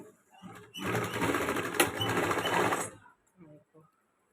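A sewing machine stitches a sleeve onto a Pakistani-style ladies' shirt in one continuous burst of about two seconds, close and fairly loud, with brief talk just before and after.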